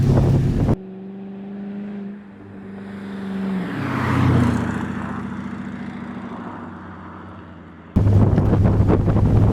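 A 1965 Dodge Monaco with a swapped Hemi engine drives along a road, a steady engine and road rumble with wind buffeting, loud and close from inside the cabin, rising and falling slightly as it travels.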